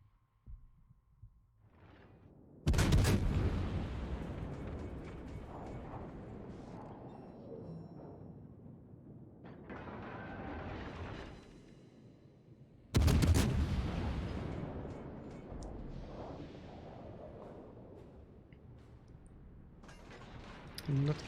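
Naval gunfire in the World of Warships video game: two heavy, deep booms about ten seconds apart, each striking suddenly and rolling off in a long, rumbling decay over a low hum, with faint voices in between.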